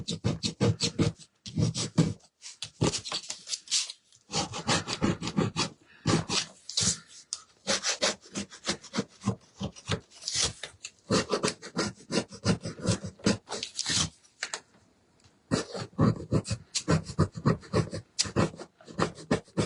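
Steady rhythmic rasping of sandpaper rubbing back and forth on a wooden birdcage cutout, close up, with brief pauses between strokes.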